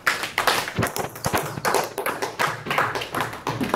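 Church congregation clapping in a steady rhythm during a worship service acclaiming Jesus, a busy, fairly loud sequence of hand claps with no talk over it.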